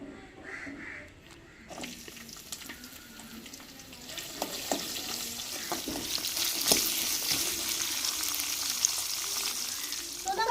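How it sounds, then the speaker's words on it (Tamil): Chopped onions and dried chillies frying in a pan, a quiet start giving way to a steady, building sizzle with scattered scraping and clinking stirs. "வத்தல் சேர்த்துக்கிறோம் சுத்தமணி வெட்டி வச்ச வெங்காயத்தையும் சேர்த்துக்கிறோங்க"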